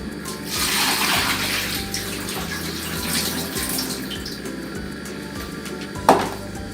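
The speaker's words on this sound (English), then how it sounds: "Now, pour the water that was used for this first part." Used water from a school experiment is poured out into a sink, a continuous gushing splash that steadily rises and falls, ending with a short knock near the end.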